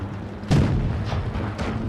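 A tank cannon fires in the WOT Blitz video game, from the Defender Mk. 1: a heavy booming shot with a rumbling tail, followed by fainter thuds and the engine drone of battle.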